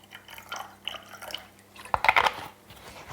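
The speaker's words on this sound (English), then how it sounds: "add some apple cider vinegar, about a tablespoon" Apple cider vinegar is poured into soya milk, giving a short liquid splash and dribble after a quiet stretch of faint handling noise.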